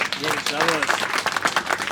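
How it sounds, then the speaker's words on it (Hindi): Brief burst of audience clapping for a student at a village ceremony honoring talented children, loud and close, with voices talking over it throughout. "बेटे के लिए तालियां बजा दे भाई।"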